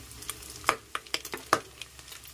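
Sinampalukan stew of pork fat and liver cooking in a pot, giving soft, irregular bubbling and sizzling pops with a few sharper clicks, close and moderately quiet, with no talk.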